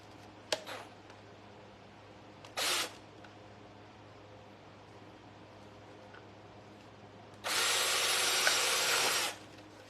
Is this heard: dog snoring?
no